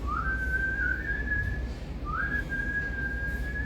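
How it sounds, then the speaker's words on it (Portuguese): A man whistles a love song alone, two clear rising-then-sustained melodic phrases at moderate, close level over faint background noise. "Uma manhã acordei alegre e dei por assobiar uma canção de amor."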